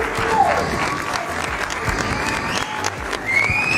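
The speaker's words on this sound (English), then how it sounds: "Give yourself a round of applause" Applause from a small audience at a live art-making session, a brief, steady patter of clapping mixed with cheers and chatter, with a sliding whistle-like tone cutting through.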